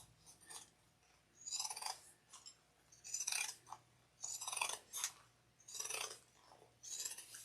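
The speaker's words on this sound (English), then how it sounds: "I find the sound of pinking shears oddly relaxing." Pinking shears snip through fabric while trimming a handmade clutch, a series of close, crisp crunching cuts in rhythmic bursts separated by brief pauses, with no voices.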